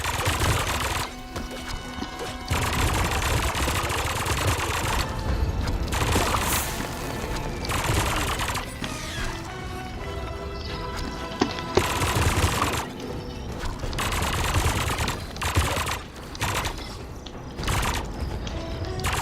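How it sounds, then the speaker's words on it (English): Rapid turret gunfire rattles almost continuously in the Funko Fusion video game's Battlestar Galactica level, mixed with mechanical game effects and brief pauses between long bursts. "I'm a literal goddamn turret. I should use it in boss fights more often."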